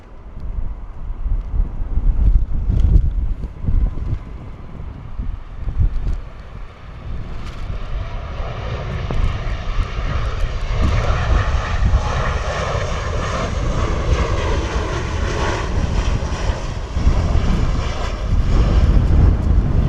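Ryanair airliner landing at Bristol Airport in strong wind: a sustained jet engine roar builds, with heavy wind buffeting on the microphone throughout.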